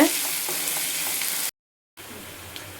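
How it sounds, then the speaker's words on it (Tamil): Close-up sizzling of onions sautéing in a pan for fish curry, a steady crackle briefly interrupted by a moment of silence before resuming. "ஒரு கண்ணாடி பதத்துக்கு வதக்கிடுவோம் மீன் குழம்புக்கு"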